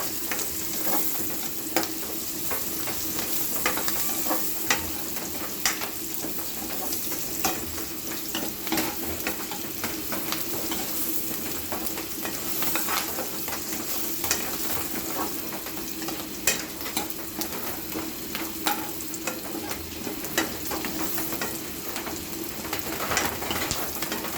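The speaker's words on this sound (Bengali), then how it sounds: "পেঁয়াজ কুচি মরিচ কুচি এবং একটি শুকনো আবার রসুন কুচি ভেজে নিচ্ছে" Chopped onion, chili and garlic frying in a pan, a continuous soft sizzle with occasional stirring scrapes throughout, heard alone and fairly quiet.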